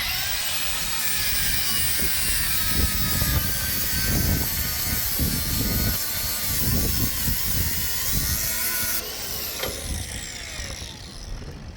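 Rope on a Franna crane winch being cut with a power tool, a loud, harsh whining cut with fluctuating bursts over about ten seconds, ending with a shift in tone as the cut finishes.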